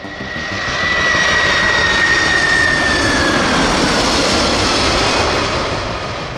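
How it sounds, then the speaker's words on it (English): Air Force One, the presidential jet, flying overhead: a loud, continuous engine roar that swells in and holds steady, with a thin whining tone that slides slowly downward before fading as the aircraft passes. "Air Force One is literally a flying fortress."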